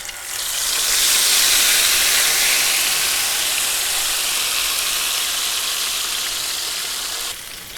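Masala-coated chicken hits a hot kadhai with a loud, sudden sizzle that settles into a steady, bright hiss for several seconds before cutting off near the end.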